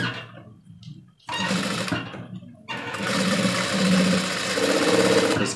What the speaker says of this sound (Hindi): इसकी जड़ में सिलाई लगा देनी है